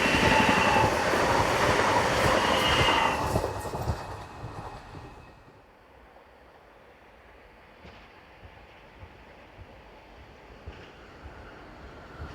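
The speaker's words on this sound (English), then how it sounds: "Another pair of Class 4124, there's a lot of them on this line" A pair of Class 4124 electric trains on a single-track line from Bruck-Leitha to Wiener Neustadt rush past. The roar is loud at first and fades after about four seconds into a low, distant rumble.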